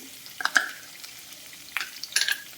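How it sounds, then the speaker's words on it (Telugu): Tempering frying in a pan for coriander-mint chutney, heard as short bursts of sizzling and crackling with stirring, close and fairly quiet, with gaps between bursts. "తాలింపు ఎంత బాగా ఫ్రై అయితే మనకి మాడిపోకూడదు మాడిపోకుండా చూసుకోండి"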